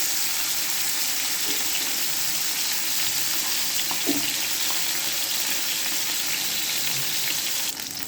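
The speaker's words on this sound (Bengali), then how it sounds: "ভাজার কি শব্দ গ্যাসটার শব্দ হচ্ছে" Hilsa fish sizzles and crackles steadily in hot oil on a gas stove, a dense, continuous frying hiss with a few faint clinks.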